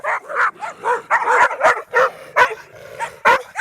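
Two dogs bark and yip in short repeated bursts close by on a rural road near a cemetery during a thru-hike, loud and insistent, with a brief whimper mixed in.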